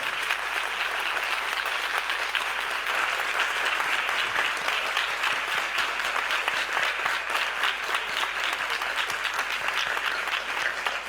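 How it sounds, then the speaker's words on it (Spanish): An audience at a literary talk applauds steadily and loudly, a dense, continuous clatter of many hands clapping close by with no voices. "os agradezco mucho los aplausos"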